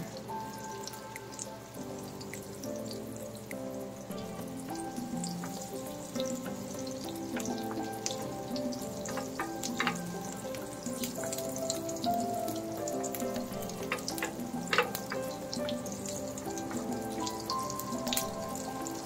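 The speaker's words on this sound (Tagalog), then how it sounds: "tunawin muna natin yung ating butter" Butter melts in a hot pan before fish is added, giving a steady crackling sizzle with scattered fine pops that holds at an even, close level throughout.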